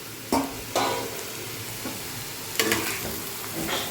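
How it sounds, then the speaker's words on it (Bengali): Carrots and potatoes sizzle steadily in a pan, broken by a few sharp scrapes of a spatula stirring them. "আর এখানে রান্না হচ্ছে গাজর আলু ভাজা"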